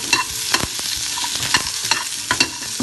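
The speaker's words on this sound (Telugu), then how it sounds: "ఇవి కొంచెం లైట్గా ఫ్రై అయితే సరిపోతుంది" Ingredients for an onion chutney with red chillies fry lightly in a pan, with a steady sizzle broken by several sharp stirring scrapes at an uneven rhythm, close and fairly loud, with no voices.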